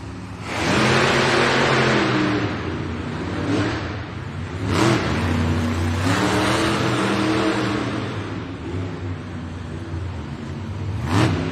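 Monster trucks, including Grave Digger, rev their engines for a head-to-head race in a Birmingham, UK arena: loud roaring surges rising and falling for several seconds with a broad arena din underneath.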